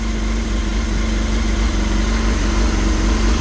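A 1989 Honda CBR1000F engine runs steadily just after a cold start, loud and close with an even, throbbing idle over a low rumble and constant hiss, no one talking.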